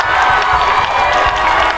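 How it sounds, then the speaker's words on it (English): Football crowd at a high school game between Jesup J-Hawks and Hudson Pirates, roaring and cheering continuously with scattered applause, loud and dense throughout. "And the crowd is fired up here."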